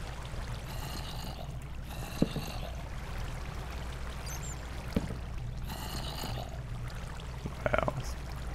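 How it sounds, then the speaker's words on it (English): Water flows steadily through a large ravine in Minecraft, a constant rushing wash that fills the whole stretch, with a few faint clicks and brief sounds on top. "Try to block off that water there."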